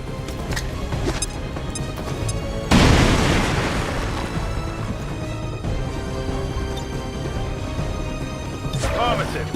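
A frag grenade detonates in the video game XCOM 2, a loud sudden boom with a long rumbling decay, set among game sounds and voices before and after.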